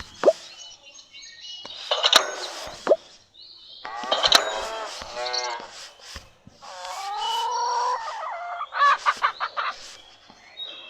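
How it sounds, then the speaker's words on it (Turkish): Video-game chickens in Hay Day cluck in quick, choppy bursts with sharp plopping pops between them, close and fairly loud, with no talking. "Tavuk tavuk tavuk."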